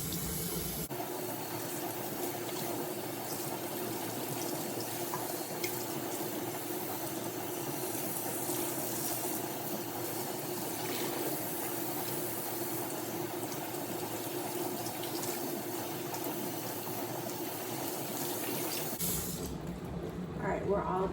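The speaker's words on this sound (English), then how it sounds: "You want to be sure to rinse thoroughly until your water coming off of your hair is clear" Running water rinses through hair during a co-wash, a steady, close hissing splash that holds evenly for about twenty seconds before cutting off.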